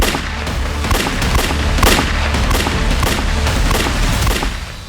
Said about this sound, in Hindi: क्या फायरिंग?